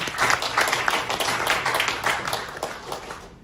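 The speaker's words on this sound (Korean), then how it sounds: "정현진 상임 대표님께 다시 한번 큰 박수 부탁드리겠습니다" Applause from the audience at a Korean newspaper's anniversary ceremony and awards night, a dense patter of many hands clapping steadily for a few seconds at moderate volume.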